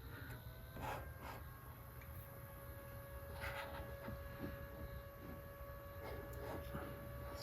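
The stock fan in a Hiace van build runs with a steady whirring drone and a faint tonal hum, close by and fairly quiet, with some light handling noises.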